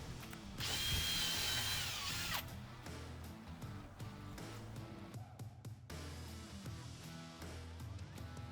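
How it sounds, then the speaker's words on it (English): A power drill whirs loudly for about two seconds near the start, pre-drilling angled holes, followed by quieter clunks and handling noises from tools and wood. "I marked the holes with my template and then used the angle tool to pre-drill the 30-degree angle"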